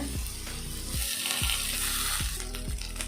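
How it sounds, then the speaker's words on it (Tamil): Moringa leaves fry with onions in a pan: a steady close sizzle broken by regular low knocks of a spoon against the pan roughly every second. "இப்போ நான் கீரை போட போகிறேன்"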